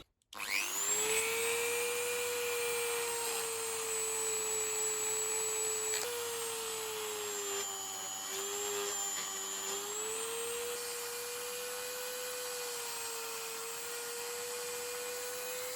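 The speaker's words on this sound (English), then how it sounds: "Let's get a little brass brush on the Dremel." A Dremel rotary tool fitted with a small brass brush spins up to a steady high-pitched whine, shifting pitch slightly as it loads against the work, then running on evenly, close and alone.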